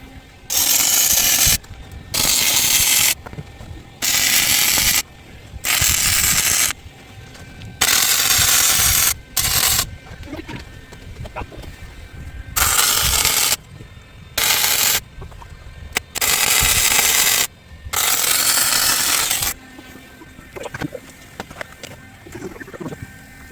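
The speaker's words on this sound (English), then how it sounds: "Okay, let's weld her in." Arc welding on a Ford F250 prerunner truck build: loud bursts of crackling, buzzing weld noise, repeated roughly a dozen times in runs of about one to two seconds with quiet gaps between.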